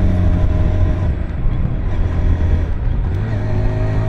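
Engine of a Hero Hunk 160R 4V motorcycle revving in third gear, a loud, steady low drone with a rising buzz held throughout, close and continuous.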